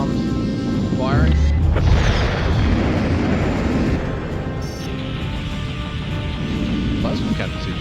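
An anti-shield torpedo in the Colony Wars space combat video game fires with a whooshing launch, then a heavy booming blast that rolls on into a long rumbling tail against continuous background game noise.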